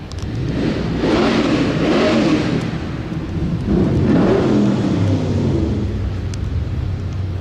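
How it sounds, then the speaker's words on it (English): Car engines rev outdoors in two loud, swelling bursts with a steady motor rumble between them, like vehicles being gunned on a nearby street. "People revving their fucking motors"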